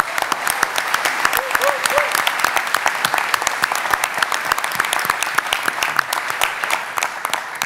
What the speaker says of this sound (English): how about a round of applause for all the nominees and winners again tonight?